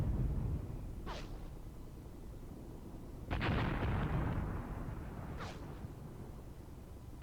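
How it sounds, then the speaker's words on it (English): In Graviteam Tactics, artillery shells land on a battlefield, each impact a distant, muffled boom followed by a rumbling tail. A few blasts come at irregular intervals over continuous low battlefield noise. "You can see the gun flashes and then a bit later the shells come down."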